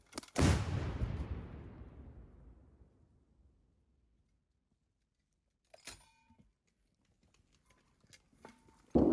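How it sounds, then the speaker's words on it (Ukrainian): A single heavy Ukrainian artillery gun blast in eastern Ukraine booms out and rolls away into a long decaying echo, followed later by faint clicks and rustling. "Гармата! Постріл!"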